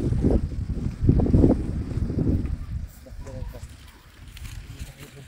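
Strong outdoor wind gusts buffet the microphone with a loud low rumble, heaviest in the first half and easing later, while a family tries to light a cooking fire outside.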